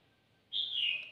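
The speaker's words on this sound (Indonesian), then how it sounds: "Ini saya punya burung ya, lovebird" A sick pet lovebird gives a single short, high, shrill call, fairly close and alone against a quiet room.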